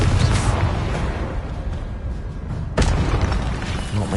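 Two loud booming blasts of the Confringo fire spell in the Hogwarts Legacy video game, one at the start and another partway through, each rolling off into a rumbling tail, with no talk.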